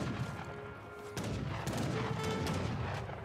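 Heavy cannons firing in an Age of Empires 3 battle: several booming shots at uneven intervals over a dense, noisy mix of game battle sounds, with no voices.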